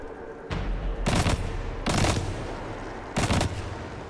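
Gunfire in Destiny 2: several close, loud bursts of rapid shots spaced about a second apart over a steady background of game noise.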